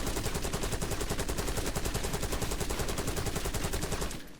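Sustained full-auto fire from a Krig C assault rifle in a video game: a rapid, steady stream of loud, close shots running for about four seconds before cutting off abruptly.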